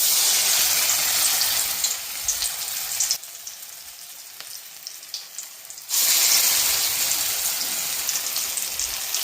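Food fries in hot oil with a loud, close, steady sizzle and crackle that quiets for a few seconds midway and then surges back to full strength.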